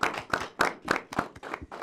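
A small group of debate participants clapping for themselves in a studio, a handful of distinct claps in an uneven rhythm, fairly close and moderately loud.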